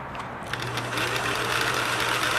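A Singer 750 sewing machine runs steadily, its needle clattering in a fast, even rhythm with a low motor hum underneath, close and unbroken after a brief start.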